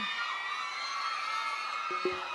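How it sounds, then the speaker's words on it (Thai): An audience at a northeastern Thai folk stage show screams and claps in a continuous, fairly distant crowd roar, with a couple of brief louder shouts near the end. "ขอบคุณเสียงกรี๊ดด้วยขอบคุณเสียงปรบมือ"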